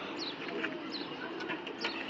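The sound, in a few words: pigeon cooing at market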